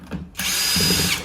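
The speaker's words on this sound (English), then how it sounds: "when you are using a power tool to remove the screws holding the box lid to the box" A power drill on maximum torque backs screws out of a box lid on a Floatwheel ADV electric board, starting with a brief low stutter before a loud, steady whir close to the mic.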